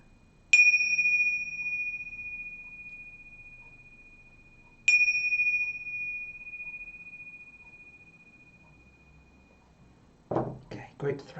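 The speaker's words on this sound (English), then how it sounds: "Let's just clear the energy with our bells as well." Two separate strikes of a bell or chime, a few seconds apart, each leaving a long, pure ringing tone that decays slowly in a quiet room during an energy-clearing session. Soft speech follows at the end.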